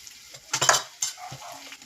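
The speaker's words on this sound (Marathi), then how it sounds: "सोयाबीनच्या वड्या तेलामध्ये परतून घेतो आता ह्याच्यामध्ये मी हळद घातली आहे हिंग घातली आहे" Soybean chunks fry in hot oil seasoned with turmeric and asafoetida, giving short bursts of sizzling and stirring scrapes between quieter moments, close by.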